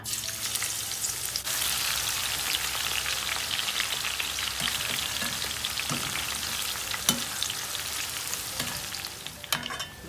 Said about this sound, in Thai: เจียวหอมค่ะ